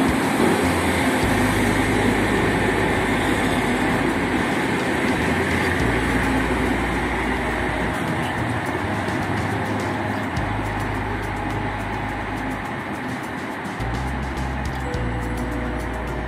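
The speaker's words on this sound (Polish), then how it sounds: "Podstawia się właśnie skład pociągu Regio do stacji Ostrów Wielkopolski." A Regio passenger train, an EN57 electric multiple unit, pulls into Ostrów Wielkopolski station with a steady loud rumble, wheel clatter and rail noise that runs continuously throughout and stays close.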